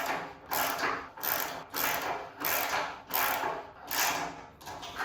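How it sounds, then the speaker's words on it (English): A socket ratchet tightens nylock nuts on the rear suspension of a 1934 Chevy hot rod utility. It gives about seven rhythmic bursts of close, buzzy clicking, one after another with short pauses between, and no talking. "Yeah, I'll have to go get a socket set."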